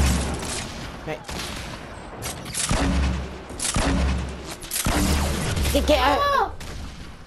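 Grenade launcher blasts and gunfire from a Fortnite 50 vs 50 battle royale, arriving as a run of loud booming bursts with sharp shots between them, while players talk over the top.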